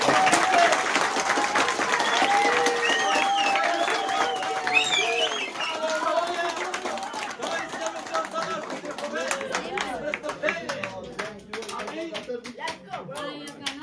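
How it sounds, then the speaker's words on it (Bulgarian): Audience at a Christmas nativity play applauding, a dense, steady wash of clapping that fades and thins toward the end, with scattered voices and chatter mixed in. "Нека да ръкопляскаме за нашия."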